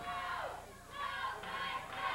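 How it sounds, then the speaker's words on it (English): A wrestling arena crowd chants in rhythmic swells for Flash Flanagan at a USWA television event, the massed voices rising and falling at a moderate distance. "Crowd has really picked up the chant for Flash Flanagan here."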